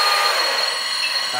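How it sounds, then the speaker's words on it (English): A LESU 1/16 scale Aoue-AT60H 6x6 RC hydraulic articulated truck runs at full speed, giving a steady, close electric whine with a high hum that holds without a break. "This one is driving fully. That's the full speed."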